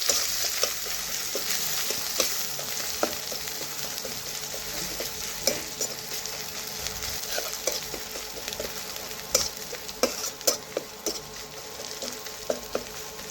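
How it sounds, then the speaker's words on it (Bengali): Chopped onions frying in oil in a pan, under a constant sizzling hiss broken by frequent spatula scrapes and taps as they are stirred, growing busier toward the end, close by with no speech. "এখন পেঁয়াজগুলো একটু ভালোভাবে নাড়াচাড়া করে আমি লাল লাল করে ভেজে নেব।"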